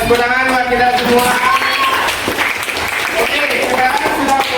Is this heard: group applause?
yes